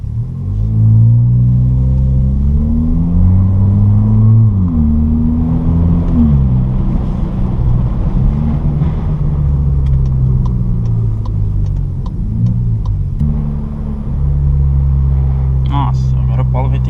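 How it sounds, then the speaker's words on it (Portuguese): A 2023 Volkswagen Polo GTS with a sport exhaust diffuser drones with a steady low rumble while driving, the engine pitch rising and falling through gear changes, loud and continuous from inside the car. "eu quero mais que vocês escutem o ronco do carro"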